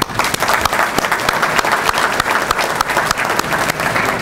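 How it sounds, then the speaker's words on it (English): Loud, dense applause from an audience at a Zips football team luncheon, steady clapping throughout with no break and no talk over it. "I just want to give a round of applause for all the newcomers."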